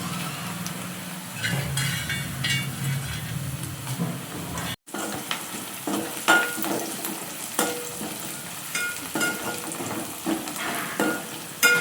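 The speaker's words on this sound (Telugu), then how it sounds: "ఇవి అయితే బాగా ఫ్రై అయిపోయాయి." Prawns fry in a pan for a gongura prawn curry, with a continuous close sizzle and occasional stirring scrapes. A brief break interrupts the hissing oil midway, and no one speaks.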